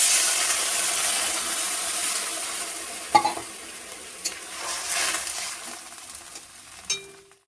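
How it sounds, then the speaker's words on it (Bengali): Water poured into a pan of frying greens seasoned with turmeric, giving a soft sizzle and hiss that settles down, broken by a few sharp clinks and stirring scrapes near the end. "এবার জল দিয়ে দিচ্ছি।"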